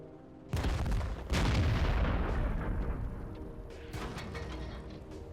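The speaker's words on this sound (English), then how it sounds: "Look at the turret of the Leopard 1 blow sky high." A Leopard 1 tank's ammo rack detonates in World of Tanks and blows the turret off. A heavy boom hits, then a second, bigger blast rolls into a long, loud rumbling roar that slowly fades.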